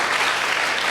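A church congregation breaks into sustained applause during a sermon, a thick, even patter of many hands clapping at once, loud and filling the room without pause.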